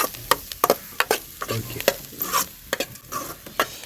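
Cabbage curry cooking in oil in a pan, village style, with sharp sizzling bursts and scraping stirs recurring irregularly, fairly close and prominent, no voices over it.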